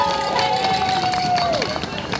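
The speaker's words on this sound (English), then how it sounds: "I ask that everyone gives my partner Dan a big round of applause for setting up the sound" Crowd applause at an outdoor freedom rally in Halifax, a steady wash of clapping and cheering from many people, with a whistle-like tone sliding down early on and voices mixed in.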